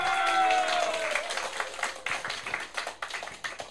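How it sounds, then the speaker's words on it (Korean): A burst of audience applause at a Korean political party membership ceremony, many hands clapping loudly at first and then thinning into scattered claps as it fades. "박수 치세요."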